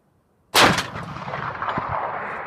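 A 20mm Lahti anti-tank rifle fires a single loud, close shot outdoors in winter, a sharp blast followed by a long rolling echo that lingers across the landscape.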